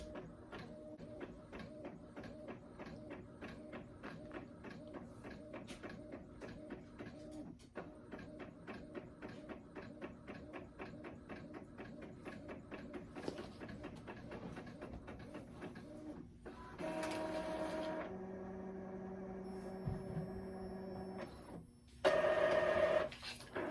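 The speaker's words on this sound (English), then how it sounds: "you see it has printed perfectly on my printer" Inkjet printer running a print job with sublimation inks, a steady rhythmic mechanical whir with repeated carriage passes, then louder feed and eject noises near the end, heard alone and close.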